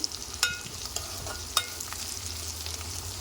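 Bitter gourd (kakarakaya) sizzles steadily as it fries in a pan, with a constant crackling hiss and a couple of sharp spatula scrapes or taps against the pan, no voices.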